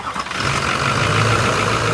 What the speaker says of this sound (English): this is just what it takes to get the truck to fire and up and idle